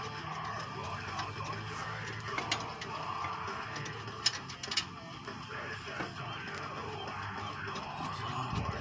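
A 13/16 socket on a ratchet loosening a 20 mm caliper bracket bolt on a Volkswagen Atlas front wheel, heard as faint mechanical clicks and a few sharper metallic taps over a low background hum.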